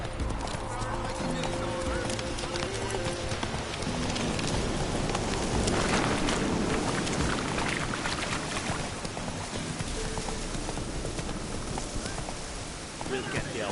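Roach, Geralt's horse in The Witcher 3, gallops with rapid, dense hoofbeats under a wash of game ambience and music, while a voice speaks over it.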